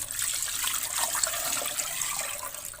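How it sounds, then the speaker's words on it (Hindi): Water poured from a glass into a pot of spiced chicken while making haleem, about three glasses' worth, a steady close splashing pour with no talk. "अब आप इसके अंदर साथ पानी शामिल कर लें। पानी तकरीबन 3 गिलास मैंने लिया है"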